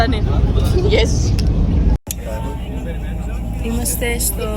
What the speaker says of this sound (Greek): Είμαστε στο λεωφορείο.